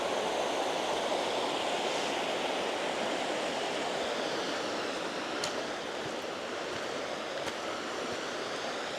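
Steall Waterfall in the Scottish Highlands roars as a steady, loud, broadband rush of falling water, unbroken and continuous with no voices over it.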